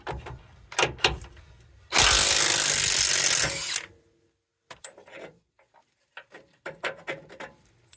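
A power tool whirs in a loud burst for about two seconds while loosening a 22 mm nut on a seized cam bolt of a 2007–2021 Toyota Tundra front lower control arm, with scattered metallic clanks and handling noises around it.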